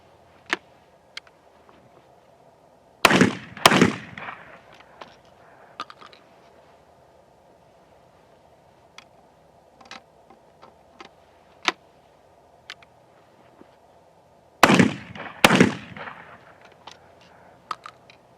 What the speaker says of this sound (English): so I'm not going to shoot very many of them, but I'm going to try 4 here